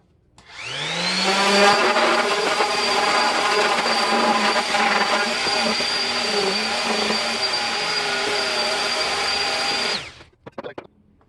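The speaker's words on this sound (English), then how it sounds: "I'm using my sander to get the flat surface nice and flat and take out all the rough edges." Power sander running steadily on a Triumph TR6 dash bezel from a 1974 restoration, a loud continuous whir that spins up at the start, holds for about nine seconds, then cuts off with a few clatters.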